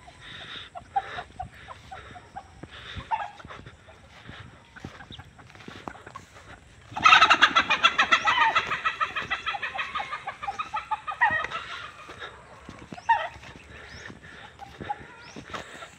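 Chickens cluck on a rural farm beside rice paddies, a burst of loud, agitated clucking and flapping that peaks midway, then fades into lighter clucks over faint background sounds.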